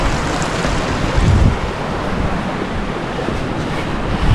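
A river in the Sierra de las Nieves runs full after a storm, giving a steady, loud, close roar of rushing water that continues without pause and without any talking.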